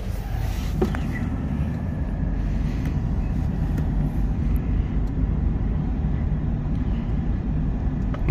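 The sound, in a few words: truck and trailer driving away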